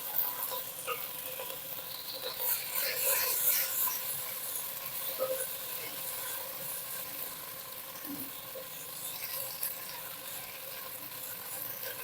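Washed moringa leaves frying in a tempering of hot oil make a soft, crackling sizzle with scattered pops and patters. It is quieter than a hard sear, sounds close, and is steady over several seconds with no one talking.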